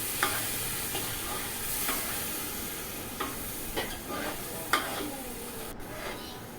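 Beef being stirred as it fries in a pot for pulao: a steady sizzle with repeated scraping stirs that scrape and clack at irregular intervals, fairly close and moderately loud, with no talking.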